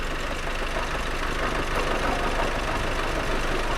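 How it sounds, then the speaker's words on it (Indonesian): A diesel car engine idles hot during a used-car inspection, with a steady, loud, broadband rumble and clatter that runs unbroken and close throughout, with no voices. "Mesin diesel itu biasanya kan mesin itu ngobos atau enggak."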